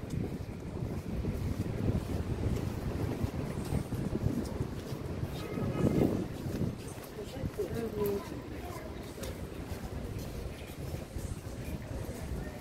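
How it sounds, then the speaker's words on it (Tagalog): Steady wind buffets the microphone in a constant rushing roar, with a louder gust in the middle; no clear voices stand out. "Mahangin na talaga guys, mahangin"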